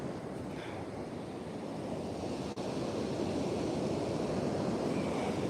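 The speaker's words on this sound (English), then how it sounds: "But yeah, man, the waves are awesome." Ocean waves wash onto a beach at very low tide during an evening agate hunt, a steady broadband surf roar mixed with some wind buffeting on the microphone, with no voices.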